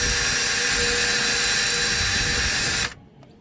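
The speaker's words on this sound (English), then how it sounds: "We're gonna drill a hole right in there" A power drill bores a hole during repair of a mooring winch aboard a container ship, a loud steady whine and grinding that runs for nearly three seconds and then cuts off abruptly, leaving quiet background.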